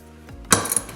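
Old swingarm bearing driven out and dropping inside a socket, a single sharp metallic clank followed by a couple of smaller rattling clinks, close and loud after a brief quiet hum.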